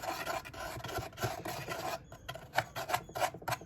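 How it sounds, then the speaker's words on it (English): Sandpaper rasps back and forth over the wood of a cigar box guitar, a close, steady series of rough scratching strokes, quicker and more broken toward the end, with no talk. "we'll get in now with some sandpaper and give all of this a clean up"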